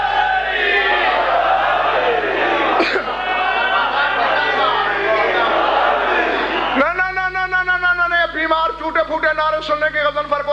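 A crowd chants religious slogans at a Muharram majlis, a loud massed roar of voices that gives way to a single voice calling out over the hall.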